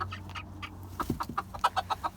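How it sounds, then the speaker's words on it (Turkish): A rooster clucking in a quick, even series of short calls, close by and fairly loud, with a lower grunt early on. "Arkadaşlar paçasına bakın çok güzel bir horoz"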